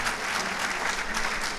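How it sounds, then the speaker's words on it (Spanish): An audience at an evening university event with a congressman claps for a professor, a dense, steady burst of applause filling the room throughout. "vamos a darle un aplauso al profesor por estar aquí con nosotros esta noche"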